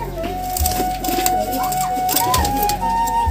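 Soft, low pigeon coos repeat a few times close by, over a faint steady background hum.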